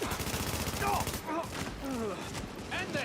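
Rapid gunfire from a firefight in The Division, with dense bursts of shots running under excited voices talking throughout.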